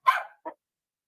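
A dog gives a loud, close bark followed by a shorter second bark, two sharp bursts in otherwise quiet surroundings.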